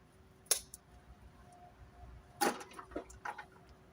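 Hawthorn branch being cut with shears outdoors, two sharp snips with a few lighter clicks and rustles between them, fairly close.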